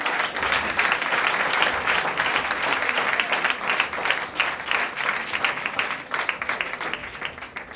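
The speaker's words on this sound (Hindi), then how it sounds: "मैं जोरदार तालियों से पास्टर विवेक जी का स्वागत करना चाहूंगी" Loud, sustained applause from a church congregation at a prayer and worship service, welcoming a pastor; dense clapping fills the whole stretch with no talk over it, easing slightly toward the end.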